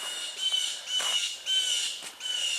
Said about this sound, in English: Got a crow cheering for her.